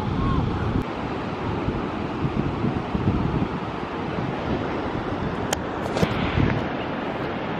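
Ocean surf rolls and washes along a shore with heavy wind buffeting the microphone, a dense continuous roar with no speech.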